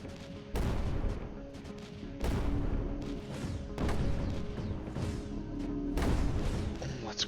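Cannons firing in the strategy video game Creeper World 4, with sharp booming shots that come in bursts about every one to two seconds and each trail off into a crackling decay, loud and unaccompanied by speech.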